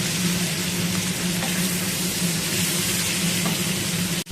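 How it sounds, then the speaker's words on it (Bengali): Potato, pointed gourd and onion fry in a pan with a continuous, fairly loud sizzle that holds steady throughout and cuts off abruptly at the very end. "আলু পটলের সঙ্গে পেঁয়াজও ভাজা হয়ে গেল"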